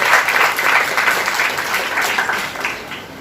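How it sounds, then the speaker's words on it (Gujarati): An audience at a Gujarati literary talk claps for two speakers, a steady, moderately loud wash of applause that holds evenly for about three seconds with no voices over it. "સૌથી પહેલા તો આ બંને વક્તા મિત્રોને આપણે તાળીઓથી એને અભિનંદન આપીએ."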